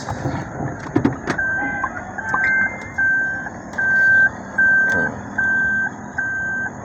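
A rental car reverses with steady, evenly spaced reversing beeps, about seven in a row, close and clear over low engine hum and traffic noise.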